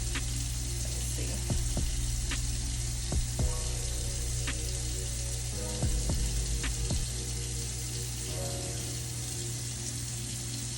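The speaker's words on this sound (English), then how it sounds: "So I'm just gonna rinse. You want to rinse it real good." Makeup brush rinsed under a running tap at a sink, steady water splash with a low hum and occasional handling knocks, close by and without talk.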